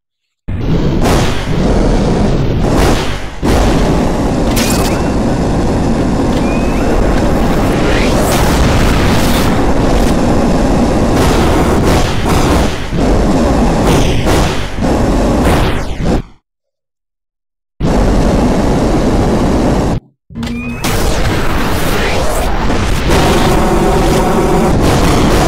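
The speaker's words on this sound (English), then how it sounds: "I've added some explosions and some collisions, so let's go try blowing up some trees while we're flying." Loud, booming explosions and bursts from a VR Iron Man flying game as trees get blown up, heavy blasts layered nearly continuously with brief whooshes, broken by two short silent gaps.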